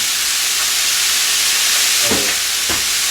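Loud continuous hiss of steam and sizzling as a handful of water hits a hot pan while cooking cheesesteak, with a couple of brief clinks or scrapes near the end.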